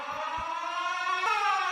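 Siren Head's siren in a video game: a steady, loud, wailing tonal siren that holds and shifts pitch slightly midway, alone without talk.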